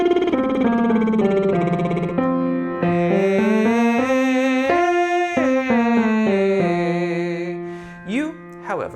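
A sung lip trill exercise for soprano, mezzo, alto, tenor or baritone voice, running in a scale-and-skip pattern in two parts. A single buzzing voice glides steadily through rising and falling pitches, loud and close, with a brief break near the end.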